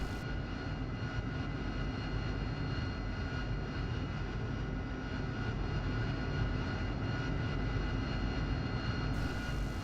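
P-51 Mustang piston aircraft engine in a flight sim game, a steady, continuous drone with a dense rumble that holds at an even level throughout, no voices.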